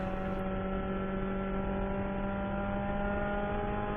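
Onboard engine sound from Kent Carter's race car at Hallett during an SCCA Hoosier Super Tour race, a loud, constant high-revving drone with strong steady harmonics, close to the microphone and without talk.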